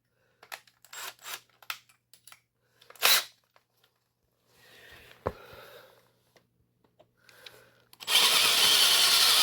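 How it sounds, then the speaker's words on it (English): A handheld power drill cuts rivet heads off a C4 Corvette. Short handling clicks and taps come first, then a brief whir, then a sustained loud, close drilling whine that runs to the end. "Basically, what I want to do is try to drill the head of these rivets off."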